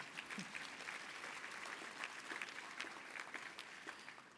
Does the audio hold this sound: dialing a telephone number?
no